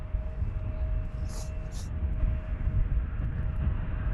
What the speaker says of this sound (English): Air Europa Dreamliner.